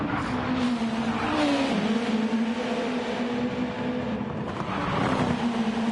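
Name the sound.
racing car exhaust, video game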